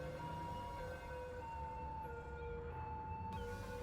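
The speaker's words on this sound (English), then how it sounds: "he's got his siren going and they're just ignoring him" Police car siren in the city-building game Cities Skylines, a faint sustained wail that rises and falls over a dense hum of traffic and city ambience.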